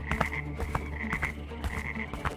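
Frogs croak in a dense, continuous chorus of repeated rhythmic calls, loud and nearby, with no voices.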